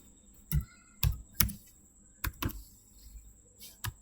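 Python code typed on a computer keyboard, a handful of distinct clicky keystrokes in uneven bursts, close and fairly quiet with pauses between presses.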